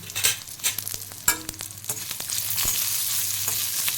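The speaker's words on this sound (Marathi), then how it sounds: "हे तुम्ही दोन मिनटं चांगलं परतून घ्यायचं" Ginger and garlic sautéing in a pan for an egg masala, a steady close sizzle with sharp scraping clinks of a spatula stirring through it, no talking.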